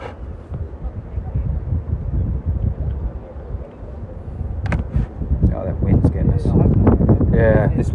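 Wind buffeting a microphone on a rowing boat, a masters coxed four racing in a saltwater regatta, a low rumbling roar throughout, with talk and splashy knocks rising toward the end.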